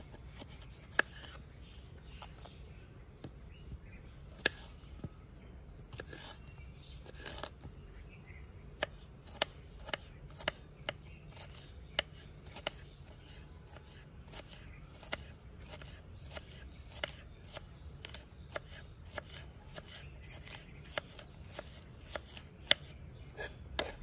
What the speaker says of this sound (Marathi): आता आपण काकडी पण बारीक कापून घेऊ।